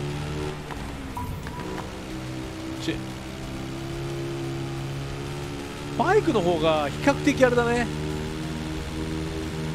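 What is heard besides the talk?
heavy rain in the video game Dakar Desert Rally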